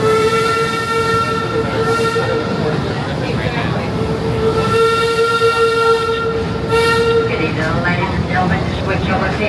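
Busch Gardens Railway train at Busch Gardens Williamsburg running on its track, a steady rumble with sustained whistle-like tones throughout, close and loud, with a ride announcement voice over it.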